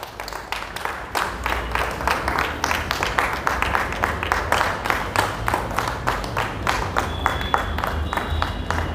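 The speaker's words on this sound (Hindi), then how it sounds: "जोरदार तालियों से विनोद जी का सम्मान होगा फाइनेंस में PhD पूरी करने के लिए" Audience applauding at a ceremony honouring a man who just completed a PhD in finance: dense, fairly steady clapping from a crowd, moderately loud and sustained, with a murmur of voices beneath.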